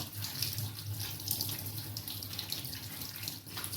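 Tap water runs steadily into a sink while soybean chunks are rinsed, a close, continuous hissing splash with no break.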